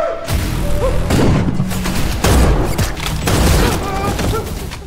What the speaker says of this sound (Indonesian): tentu saja para pasukan langsung menyerbu mereka sehingga baku tembak pun terjadi di sana